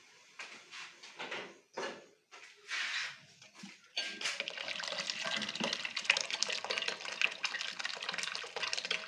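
Boiled hot water poured into strawberry pap (zobo), starting with a few short splashy bursts and gaps, then settling into a continuous bright liquid pour for about five seconds, close and moderately loud with no talking.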